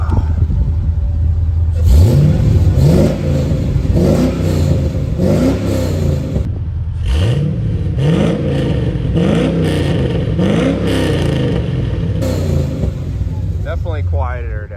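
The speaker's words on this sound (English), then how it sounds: "I'm gonna give her a few revs." An LS-swapped 1988 Firebird fitted with long tube headers and a full exhaust revs repeatedly, each sharp rise in pitch falling back over a steady rumbling idle, loud and close.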